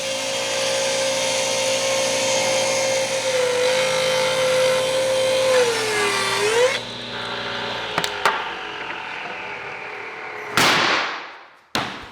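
Power tools milling white oak stock on a jointer and planer in a woodworking shop give a loud steady machine whine that winds down, followed by a few sharp clattering bursts.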